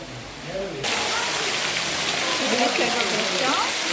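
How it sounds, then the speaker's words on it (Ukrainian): Steady, dense rain falls in a tropical rainforest pavilion at a city zoo, a continuous close hiss that swells suddenly near the start and then holds evenly. "Тропічний ліс, іде дощ"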